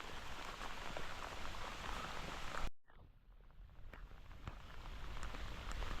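Steady rain pours down outdoors on the way to a spillway, a dense close hiss of drops hitting surfaces, briefly cut off by a short dropout before the downpour continues with scattered heavier drips.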